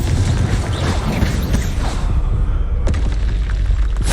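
Loud, continuous booming blasts from Bombarda and Confringo spells in Hogwarts Legacy, with rumbling explosions overlapping and a couple of sharp cracks near the end, dense and close throughout.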